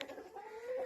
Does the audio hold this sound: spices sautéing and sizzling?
no